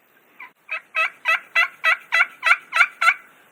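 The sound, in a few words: turkey call imitating a hen turkey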